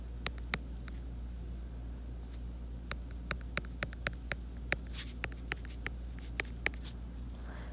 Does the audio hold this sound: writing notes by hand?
yes